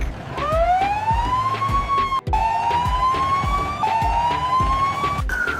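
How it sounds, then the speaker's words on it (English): A loud siren wails in long rising sweeps, repeating several times in steady succession with no voices. "This is a fire truck"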